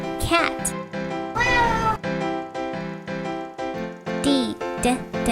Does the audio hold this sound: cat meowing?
yes